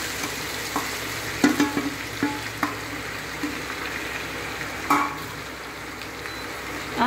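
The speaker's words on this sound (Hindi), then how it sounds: "घी को गरम होने के बाद में हम इसमें कद्दूकस करी हुई लौकी डाल देंगे।" Grated bottle gourd fries in hot ghee with a dense crackling sizzle, cut through by occasional utensil knocks and scraping as it is stirred; close, moderately loud, no speech.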